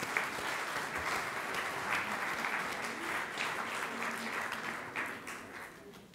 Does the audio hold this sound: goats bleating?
no